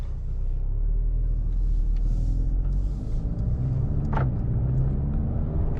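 A 2024 Mercedes-AMG A35 4MATIC facelift pulls away hard from inside the cabin, its warmed-up engine a steady, loud low rumble that builds as the car accelerates.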